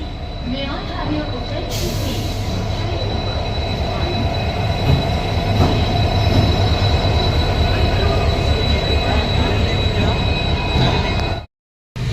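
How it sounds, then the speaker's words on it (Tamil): A diesel passenger train arrives at a station platform bound from Bangalore to Murudeshwar, its rumbling wheels and engine drone steady and close, with faint squeals and a sharp clank, before the sound cuts out near the end. "ஆக்சுவலி எங்களோட ட்ரெயின் இப்போ வந்துடுச்சு. டீசல் தான்."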